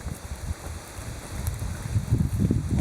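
Wind gusts outdoors during a camping stove test with Fire Dragon gel fuel, a steady low buffeting rumble against the microphone that grows stronger toward the end, with no talking.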